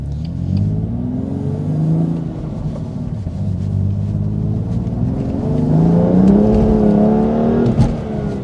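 A BMW M2 Competition with an S55 engine is driven on a morning road, the engine note rising and falling through several revs, loud and close from inside the car, with no talking.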